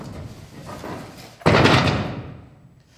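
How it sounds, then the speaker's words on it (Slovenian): A door slams shut with a loud, sudden thud that rings out and decays over about a second, following a stretch of quieter background rustle. "Potem je vrata trdo zaklenil."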